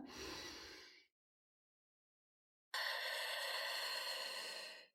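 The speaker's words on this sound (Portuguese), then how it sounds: "Então você inspira pelo nariz, expandindo o seu diafragma." Nasal breathing for a relaxation exercise: a brief exhale or inhale, a pause of silence, then a long steady breath drawn in through the nose, close and soft.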